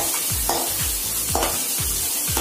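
Onions frying in a pan with a dense, bright sizzle, broken by regular thumping scrapes of a spatula stirring them, close and steady throughout.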